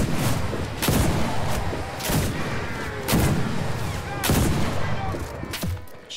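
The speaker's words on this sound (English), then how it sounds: "The shots are a little bit loud right now." Loud gunfire in the shooter game Enlisted, with a string of sharp, heavy shots landing roughly every second amid a dense, continuous battle din, close and overwhelming.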